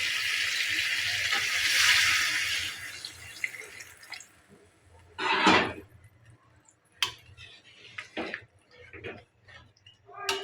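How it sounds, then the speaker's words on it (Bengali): Water is poured into a pot of simmering duck meat and potato curry, a rushing splash for a few seconds followed by scattered drips, clinks and stirring sounds. "এবার দিয়ে দেবো পরিমাণ মতন পানি।"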